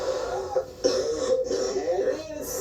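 Someone scolded for smoking at school lets out a few short, rough coughs and throat-clearing bursts, close to the mic, mixed in with voiced sounds.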